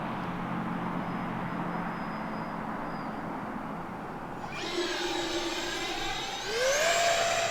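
An Arrows RC 50mm T-33 electric ducted-fan model jet gives a steady, whining rush that swells and climbs sharply in pitch twice as the throttle opens, heard nearby with no talking.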